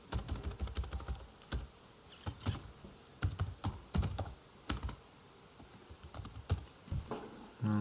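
Computer keyboard keys clatter as a name is typed in, brisk irregular bursts of crisp close keystrokes with brief gaps, no voices.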